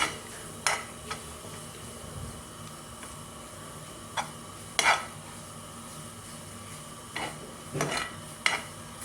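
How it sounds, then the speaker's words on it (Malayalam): Maggi noodles being stirred in a pan, a quiet sizzle underneath repeated metallic clinks and scrapes of a utensil against the pan at irregular intervals, close and without talking. "നന്നായിട്ട് ഇളക്കി കൊടുക്കാം."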